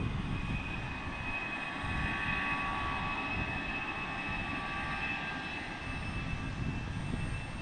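American Airlines Airbus A319 jet engines spooling up for takeoff at Portland International Airport, a steady distant broadband roar with a faint whine that holds evenly throughout.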